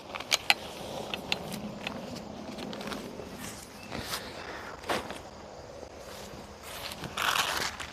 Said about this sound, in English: Those are car noises.